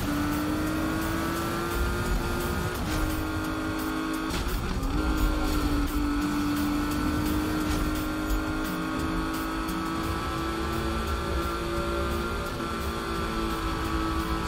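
A Porsche racing engine in Need for Speed (2015) drones at high revs, with steady shifting harmonic tones and gear changes, loud and continuous with no speech.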